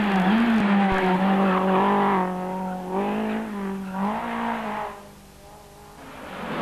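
Blue Renault Clio Williams rally car at a 1994 Polish rally championship event, its engine loud and close, revving up and down with shifting pitch and a brief tyre squeal, with no talking.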